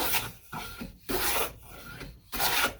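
Steel hand plane pushed along a wood board, taking smooth shavings: three long rasping strokes, each a broad hiss lasting about half a second to a second, separated by brief pauses, close and fairly loud with no talking.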